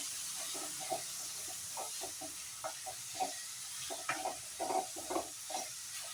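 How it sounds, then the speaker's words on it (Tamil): Onion and green capsicum frying in a pan for pasta, a steady sizzle under scattered stirring scrapes and clinks, fairly close, with no talk. "ஒரு பெரிய சைஸ் கேப்சிகம் க்ரீன் கலர் அதையும் சேர்த்து நல்லா ஃப்ரை"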